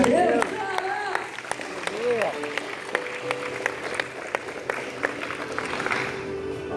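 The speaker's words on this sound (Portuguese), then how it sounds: "Aplauda ele, pelo amor de Deus." An audience at a church youth gathering applauds with a dense, continuous patter of clapping, while a loud voice carries over it the whole time.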